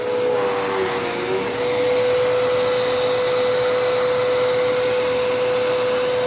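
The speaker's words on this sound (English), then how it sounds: "I'm also going to take this and vacuum my bedroom" A Dirt Devil Endura Reach vacuum cleaner runs steadily and loudly up close, with a constant motor whine and broad airy roar that holds without pause and no talking.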